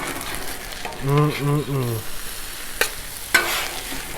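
Shrimp fried rice with vegetables sizzling on a Blackstone flat-top griddle, a close hissing fry with a few sharp spatula clicks, briefly overlaid by a short tonal hum.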